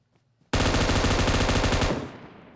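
M249 machine gun fire in the game PUBG Mobile: one loud, dense, rapid burst of about a second and a half that cuts off into a short echoing tail, with near silence before it.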